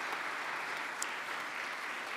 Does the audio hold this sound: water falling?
no